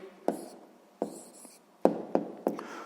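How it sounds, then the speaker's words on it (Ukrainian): Pen strokes on paper while a math answer is written down by hand: a few short scratchy bursts with pauses between them, close and fairly quiet, with no voices. "записуємо тоді відповідь"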